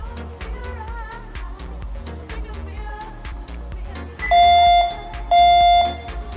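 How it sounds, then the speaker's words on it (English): A series of short electronic beeps from an Airbox Aware PLUS aviation navigation device, followed by two longer, louder steady warning tones signalling entry into controlled or restricted airspace, clear and close over a faint background. "Those two longer beeps that you've just heard signify that you have entered controlled or restricted airspace."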